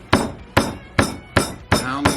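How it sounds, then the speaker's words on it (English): A meat hammer pounds pork chops thinner on a board, six heavy, evenly spaced thuds about every half second, loud and close with no talk. "pound these out with the hammer a little bit"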